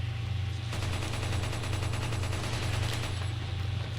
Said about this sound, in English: this gun, aside from the stupid amount of power it has, is just how beefy it sounds